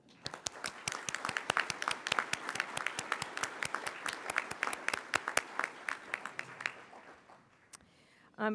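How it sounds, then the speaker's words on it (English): An audience at a racial justice breakfast applauds with dense, steady clapping that thins out toward the end, a few final claps trailing off. "Can we have some applause for them as well?"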